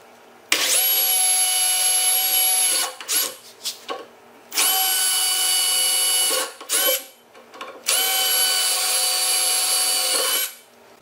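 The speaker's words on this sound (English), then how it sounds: "now I'm drilling some holes for the dolly retainer" A power drill whirs in three long, steady bursts separated by short pauses, drilling holes for a tractor carry-all dolly retainer, loud and close, with brief stutters between runs.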